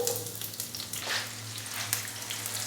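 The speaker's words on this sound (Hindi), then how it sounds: "प्याज को हम हल्का सा फ्राई करेंगे 2 से 3 मिनट के लिए" Finely chopped onion sizzles and fries in a pan with roasted whole cumin, a continuous crackling hiss with a louder burst as it is stirred, close and alone without talk.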